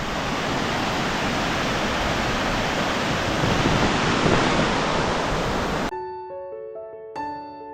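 Monsoon water rushes loudly and steadily at Keshavraj temple in Dapoli, a dense roar that fills most of the stretch before cutting off as a short melody takes over.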